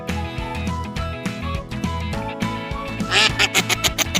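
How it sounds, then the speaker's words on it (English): A duck quacks several times in quick bursts near the end, over a loud, busy children's farm-animal song with music playing throughout. "I am a duck."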